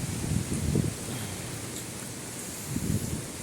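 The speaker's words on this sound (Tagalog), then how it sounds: "Ang lakas ng hangin" Typhoon Carina gusts buffet the microphone in Batangas in low rumbling bursts, strongest at the start and again near the end, with a steady hiss underneath.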